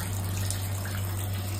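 Muddy water runs from a tap in a steady, unbroken gush, with a low hum beneath the flow.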